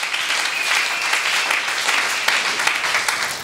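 A church congregation breaks into applause and cheering, a dense, lively burst of clapping that holds steady for a few seconds.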